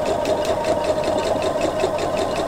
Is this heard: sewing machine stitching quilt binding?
yes